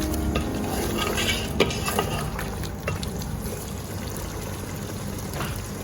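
Pre-boiled potatoes being stirred into a gravy masala for mutton pulao, with a steady wet scraping and sloshing of a spoon against the pot, close and continuous, with no talking.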